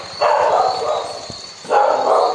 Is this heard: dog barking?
yes